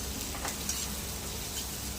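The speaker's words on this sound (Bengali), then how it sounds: "দেখো শুভ দুপুরে এই উচ্ছে ভাজা হচ্ছে" Bitter gourd frying in a pan, a steady close sizzle with a hiss that holds even for two seconds, with no talk over it.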